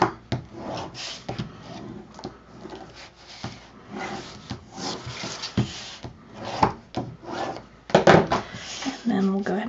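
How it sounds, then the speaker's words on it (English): Paper is rubbed and burnished down on a handmade photo folder, a steady scraping rasp with light handling knocks, fairly close, with talk running over much of it. "let's go ahead and burnish all this down"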